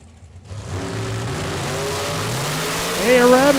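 Drag racing cars at a Super Pro bracket event, including a dragster, with an engine sound that rises and climbs in pitch toward a high-revving launch and grows louder near the end.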